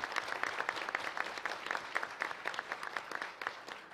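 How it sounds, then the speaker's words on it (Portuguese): Applause from a seminar audience at a World Rare Disease Day event, a dense, lively patter of many hands clapping for two actresses, filling the room for a few seconds with no speech. "Então, eu quero uma salva de palmas para essas duas atrizes"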